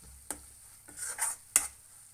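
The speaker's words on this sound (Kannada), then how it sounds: "ಹಾಗಾಗಿ ಇದನ್ನು ಹಾಕಿ ಒಂದು ಸ್ವಲ್ಪ ನಾನು ಚೆನ್ನಾಗಿ ಮಿಕ್ಸ್ ಮಾಡ್ತಾಯಿದ್ದೀನಿ." Egg masala being stirred in a pan at home in restaurant style: three distinct spoon scrapes and knocks against the pan over a faint sizzle, close and fairly quiet.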